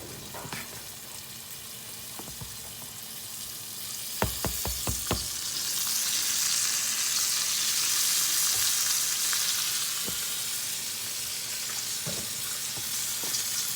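Flour-breaded pieces dropped into a hot skillet set off a few sharp clicks and thumps, then a rising, steady sizzle that fills the rest of the stretch, with faint water-like hiss underneath.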